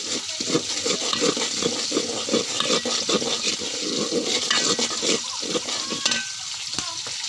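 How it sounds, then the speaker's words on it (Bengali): Spices for a dried fish curry are fried over a wood-fired stove, giving a dense, continuous sizzle with busy stirring and scraping throughout, close and fairly loud with no talk. "মশলাগুলো কষিয়ে নিতে হবে।"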